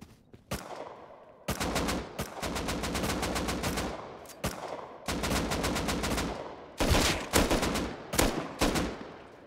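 Gunfire in the video game Rust comes in loud, sharp bursts of rapid automatic shots, with short gaps between volleys and a few single cracks near the end, close and dominant, with no speech.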